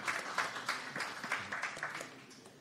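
An audience gives a round of applause for two hockey goaltenders, a fairly faint, uneven patter of claps with several louder pulses, fading toward the end, with no talking over it.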